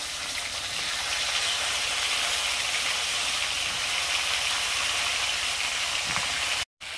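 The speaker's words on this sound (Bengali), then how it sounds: "ফুলকপিগুলো ভেজে নিচ্ছি।" Cauliflower florets coated in gram flour batter with salt, nigella seeds, turmeric, chilli and coriander frying in hot oil, a dense even hiss holding steady, then cutting out abruptly near the end.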